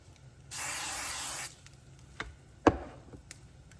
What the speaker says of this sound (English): Spray down some more.